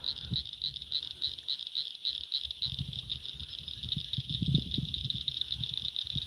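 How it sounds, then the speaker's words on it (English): A riverside frog chorus holds a continuous shrill pulsing trill throughout, steady and moderately loud, over soft low thumps and rustles from nearby movement, with no voices. "Y'all hear those frogs?"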